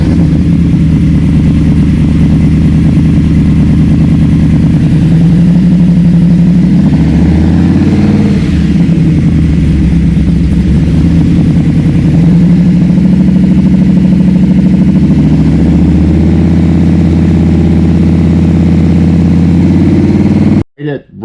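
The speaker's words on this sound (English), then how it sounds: "Okay, we made our jet change. We're going to fire up the car." A Dodge Charger with a carburetor engine, just after a jet change, running with a deep, loud, steady rumble that swells and dips as it revs before settling back to idle, then cuts off abruptly at the end.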